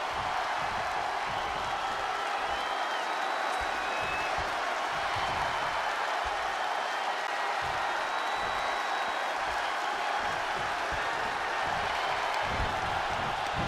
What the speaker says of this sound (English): Taking a moment to get pumped off of this crowd's incredible energy.